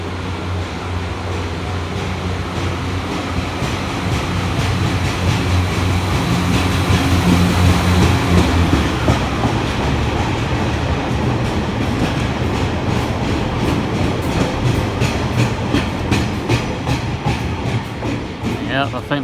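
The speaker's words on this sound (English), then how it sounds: "So we will see a cross-country service, guys. Will be coming in shortly." A CrossCountry passenger train rolls into Exeter St David's station, its steady low rumble and wheel clatter building loudly and continuously throughout, with rising rail noise and rhythmic clicks toward the end.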